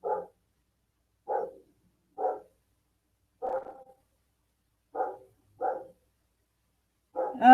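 A dog barks in seven separate sharp bursts, spaced unevenly and fairly close, in an otherwise quiet indoor room with no talking.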